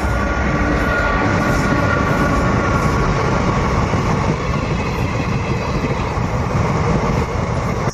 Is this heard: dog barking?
no